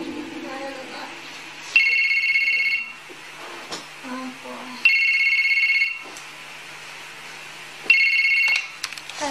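Telephone ringing in three loud, separated bursts with quiet gaps between them, a man answering it at the end.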